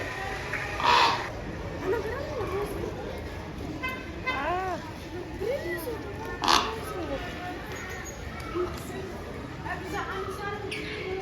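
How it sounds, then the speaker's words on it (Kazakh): A crow at a zoo lets out a short series of harsh caws in the middle distance, mixed in with people chatting nearby and general outdoor background noise. "Қарға."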